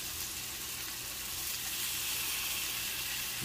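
A striped bass fillet sears flesh side down in a hot pan, giving a steady, even sizzle that stays constant and close for the whole stretch, with no one talking.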